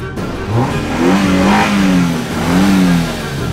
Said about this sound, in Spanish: el coche ha arrancado